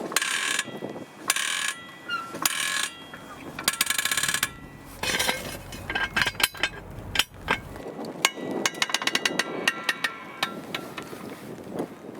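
A car jack works under a Volvo XC40, giving a busy stream of ratcheting clicks and metallic clanks in irregular bursts, loud and close, with a brief gap near the middle.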